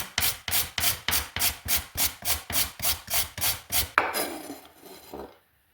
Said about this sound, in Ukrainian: Морку я натираю на вот такую терку, тоже лапшою.